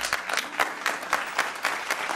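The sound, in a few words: audience applause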